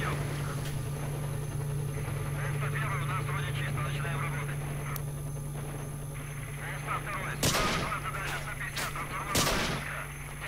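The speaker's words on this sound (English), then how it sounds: "Oh, that was a sniper." Sniper rifle fire in the game S.T.A.L.K.E.R. Shadow of Chernobyl: two sharp, loud cracks a couple of seconds apart near the end, over a steady bed of in-game ambience with a low voice murmuring.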